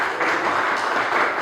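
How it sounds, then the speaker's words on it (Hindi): A Pentecostal church congregation at a Sunday prayer service claps loudly and steadily in a dense, continuous wash of applause, with no voice standing out. "जोरदार ताली बजाएं, जोरदार ताली बजाएं यीशु मसीह के लिए"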